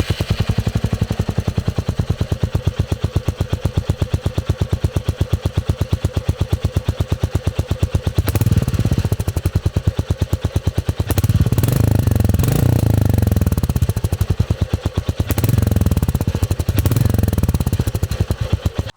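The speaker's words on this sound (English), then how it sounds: "let's fire it up and I will show you the sound of the exhaust." A Royal Enfield Meteor 350 in Aurora Black idles close by with a steady, thumping single-cylinder exhaust pulse, then swells into several loud throttle blips before settling back to idle.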